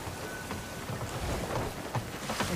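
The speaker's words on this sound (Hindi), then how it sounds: "हम पूरा तूफान के बीचों बीच है" Rain and wind rush steadily around a boat caught in a storm in the video game Sea of Thieves, a dense loud wash of downpour with faint low rumbles and no speech.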